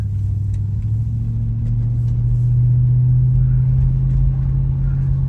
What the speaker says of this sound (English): It's the perfect amount of rumble in the car.